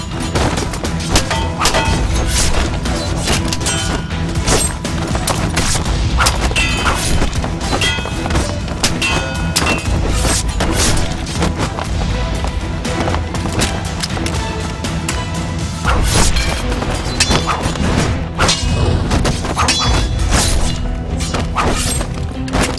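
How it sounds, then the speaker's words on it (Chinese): Dense, loud bursts of gunfire and crashing impacts in a kung fu film action scene, continuous volleys and thuds over about twenty seconds with no clear talk. "传来枪声"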